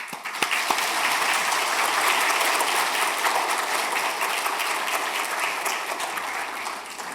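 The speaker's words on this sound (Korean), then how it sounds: "큰 박수로 환영해 인사드리겠습니다" A church congregation claps steadily and loudly for several seconds to welcome a pastor, a dense, continuous applause that fades slightly toward the end.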